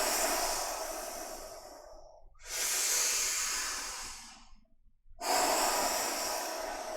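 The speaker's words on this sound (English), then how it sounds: "Nice big exhales." Two long, loud breathy exhales from a group in a guided team meditation, each a broad airy rush lasting about two seconds with a short pause between them, no talking over them.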